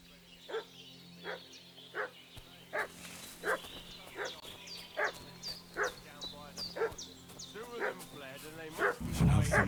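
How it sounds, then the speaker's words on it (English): A dog in the medieval village of Kingdom Come: Deliverance II barks repeatedly in a steady, insistent rhythm at moderate distance, with some yips and whines, while faint background voices murmur beneath. "What's that dog making such a fuss about?"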